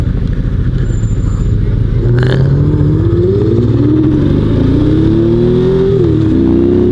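A Ferrari and a Honda VTX motorcycle accelerate hard, loud close engine roars with rising revs climbing through gear changes, continuous for several seconds with no talk.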